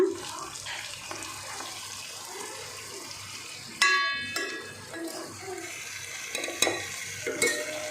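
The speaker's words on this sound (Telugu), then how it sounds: "పులుసు అయితే వేస్తా." Tamarind broth is poured into a pan of fish curry and frying oil, giving a watery splashing and bubbling sizzle under light stirring clatter, with a louder pour and a few clinks midway.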